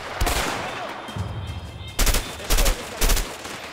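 Gunfire in the video game A Way Out, a burst of shots early on, then three sharp loud blasts in a quick irregular sequence near the end, over low background game ambience.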